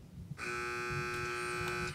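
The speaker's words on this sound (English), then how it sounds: "Teams wait for the buzzer." A loud electronic buzzer at a Hi-Q quiz match sounds after a brief pause and holds a steady, harsh tone for over a second.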